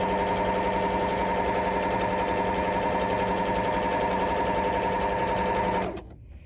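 A sewing machine stitching fabric runs at a fast, even mechanical rhythm, close and loud, for several seconds before winding down and stopping abruptly near the end.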